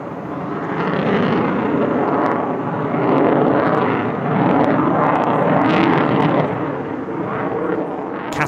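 A Boeing F-15QA fighter jet flies a display at the Dubai Airshow, a loud sustained jet roar that swells and recedes in waves as it passes, with no talk heard.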